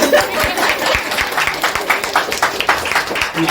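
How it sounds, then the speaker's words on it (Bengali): Audience clapping at an office Bengali New Year gathering, a brief patter of applause from a small group that runs throughout, close and moderately loud, with some chuckling and talk mixed in. "এরকমই হাততালি দরকার আমার জন্য"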